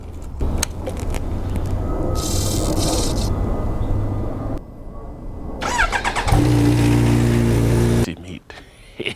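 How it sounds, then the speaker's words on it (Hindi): An H2 motorcycle engine cranks and fires up on a cold start after sitting six days, rumbling loudly and then settling into a steady idle, with key jangles and rustling nearby. "तो आपको सुनाता हूँ H2 का कोल्ड स्टार्ट कैसा है।"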